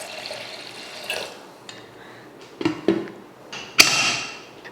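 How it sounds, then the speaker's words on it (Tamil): Water poured into a cooking pot of lentils with turmeric, garlic and tomato while making radish sambar, a few splashy pours and sloshes in short bursts with quiet gaps between, close by and moderately loud. "இப்போ தண்ணி ஊற்றி வேக வச்சிடலாம்."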